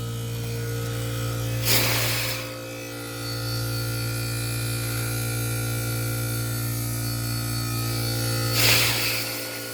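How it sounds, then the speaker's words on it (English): A Bryant air conditioner fan motor hums steadily at close range, a constant tonal drone running throughout, with two brief rustling scrapes as the fan is handled. "as you can see, the motor does run."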